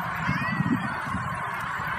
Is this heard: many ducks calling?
yes